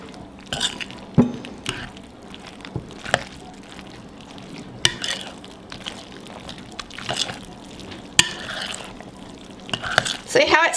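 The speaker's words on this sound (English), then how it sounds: "Alright, we're going to mix this up." Macaroni is stirred into cheese sauce in a pot, giving soft, wet squelching and scraping with occasional sharp spoon clicks against the pan, repeated through a fairly quiet stretch.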